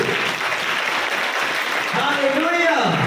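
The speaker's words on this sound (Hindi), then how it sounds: "जोरदार ताली बजाओ यीशु मसीह के लिए।" A church youth congregation at a Friday worship meeting claps loudly and continuously, with a voice rising through the applause near the end.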